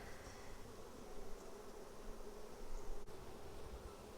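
Soft, continuous buzzing hum of many honey bees fanning at a hive, fairly quiet and even, with a faint rustle and a brief click partway through.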